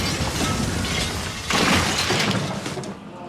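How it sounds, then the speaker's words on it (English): A glass ceiling shattering as someone crashes through it in a movie scene: a dense, noisy crash that swells midway and breaks into scattered tinkling debris, loud and continuous with no voices. "Tristan decides that he's just gonna throw himself through a glass ceiling."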